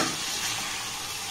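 Amla pickle with melting jaggery is stirred in a pan over a low flame, giving a brief, even hiss of gentle cooking.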